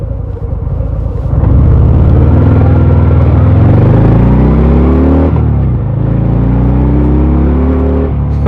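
A 2023 Harley-Davidson Sport Glide 107 motorcycle pulls out and accelerates hard on a test ride, its deep loud V-twin rumble climbing in pitch through gears with a brief dip at a shift.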